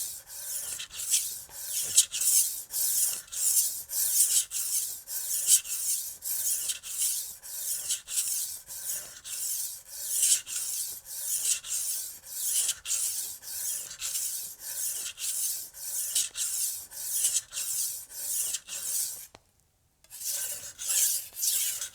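A Wusthof Classic chef's knife drawn across a sharpening stone in a long run of even, rhythmic rasping swipes, close and moderately quiet, with a brief pause near the end.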